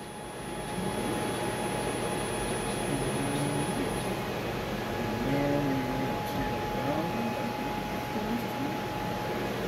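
A 2006 Fryer MC-10 vertical machining center with its spindle turning at 200 RPM, giving a steady, even mechanical hum with faint tonal whine, while people talk briefly over it.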